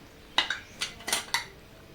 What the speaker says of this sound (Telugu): తర్వాత కుక్కర్లో ఒక స్టాండ్ పెట్టి